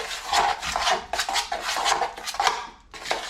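Drywall compound and water being mixed in a bucket, continuous wet scraping and rubbing strokes in a quick irregular rhythm, close and fairly loud, no voices.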